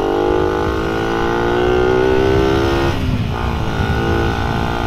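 Rusi Raider R150 motorcycle engine running loud and close, a steady droning hum that dips briefly in pitch partway through before settling back to an even idle-like tone.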